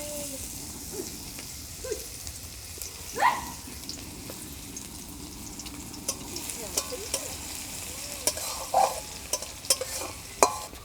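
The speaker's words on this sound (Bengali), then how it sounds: "রসুন বেটে নিয়ে এসে রসুন বাটা দিয়ে দিলাম।" Garlic paste frying in a pan and being stirred, a steady soft sizzle with scattered scraping strokes and light clinks from the spoon, fairly quiet and close, with no talking.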